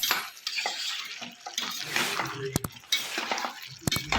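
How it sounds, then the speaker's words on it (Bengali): A spoon stirs ghee into a pan of jackfruit prawn curry, giving soft scraping and occasional sharp clinks of metal against the pot, quiet and close with gaps between strokes. "2 চামচ মতো ঘি। এবার এটাকে ভালো করে মিশিয়ে নেব।"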